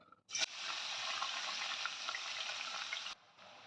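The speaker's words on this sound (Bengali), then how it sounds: "দুটো বড় সাইজের পেঁয়াজ কুচিয়ে নিয়েছি সেটা আমি দিয়ে দিচ্ছি আর লাল করে ভেজে নেব পেঁয়াজটা" Two large chopped onions drop into hot oil in a pan for mutton masala. A sudden loud sizzle starts and stays steady for about three seconds, then cuts down abruptly to a softer frying hiss.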